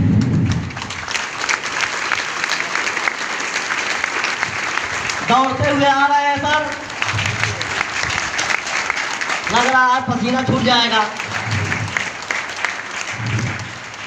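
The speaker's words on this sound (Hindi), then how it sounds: "जोरदार तालियों के बीच में" Sustained audience applause at a stage event in India, a dense steady roar of clapping running the full length while someone speaks over it twice.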